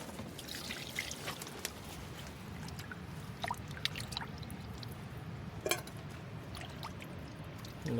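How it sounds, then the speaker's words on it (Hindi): Fresh fish is rinsed under running water at a night beach campsite, a steady trickle and splash with scattered drips, close and fairly soft, with no voices. "अभी देखिए फ्रेश पानी से धोया जा रहा है।"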